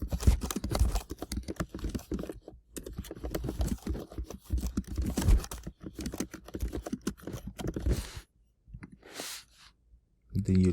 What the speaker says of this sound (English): then you just type that